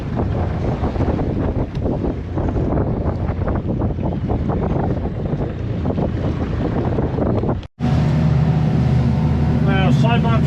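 Strong wind buffets the microphone on an offshore fishing boat at sea, a loud steady roar broken by a brief dropout near the end, with engine hum and a whistling tone afterward.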